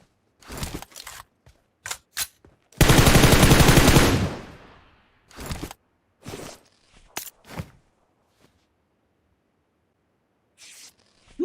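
Bursts of gunfire from the mobile battle royale game PUBG Mobile: a few sharp isolated shots, then a loud sustained volley lasting about a second, followed by more scattered single cracks.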